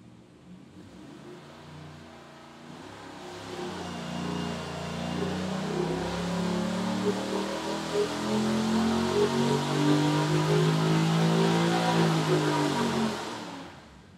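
A 416ci LS V8 engine on a dyno during a timing test, winding up from a low idle into a long, loud, steady rising roar that holds at high revs before cutting back, with no talking.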